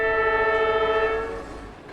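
A train horn sounds at Liugo train station in the Gobi Desert, a strong sustained multi-tone blast over rail rumble. It fades over the final second.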